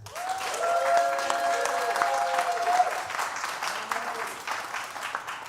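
Concert audience applauding to welcome a performer at a live music venue, a dense sustained clapping that swells early and tapers slightly, with some crowd noise and a sustained tone from the stage beneath.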